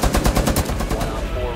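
Mounted light machine gun firing in Rainbow Six Siege Tachanka gameplay, a rapid burst of close, loud shots for about a second that then stops.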